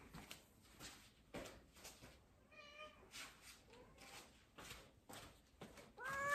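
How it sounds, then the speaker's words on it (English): A small domestic cat meows repeatedly indoors, several short close meows spread across a quiet room, with a couple of longer drawn-out cries near the end. "she is the sweetest, cuddliest little kitty in the world"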